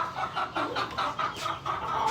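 Black Leghorn chickens cluck in a coop, giving a quick run of close, nasal clucks in uneven bursts, with no talking.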